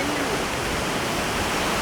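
A shallow river runs low near a waterfall in Owia, giving a steady, even broadband rush of water that holds constant with no breaks or distinct splashes.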